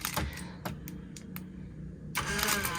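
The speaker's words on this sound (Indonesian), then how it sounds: "kalau udah seperti ini, dia akan menghidupkan mesin ya" Car engine starting by keyless remote start, a couple of faint clicks followed by the engine cranking and catching into a low idle, heard alone at moderate distance.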